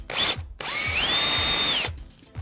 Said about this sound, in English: I drill a quick hole here